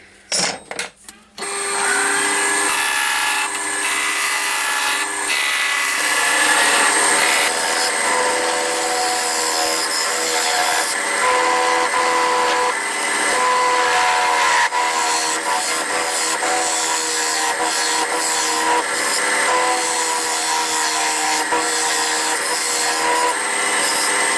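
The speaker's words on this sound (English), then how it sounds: "put it in between centres on the lathe and turn it to round with a roughing gouge" A maple blank spinning between centres on a wood lathe while a roughing gouge cuts it round, producing a loud, continuous scraping whine that holds steady for a long stretch after a brief start.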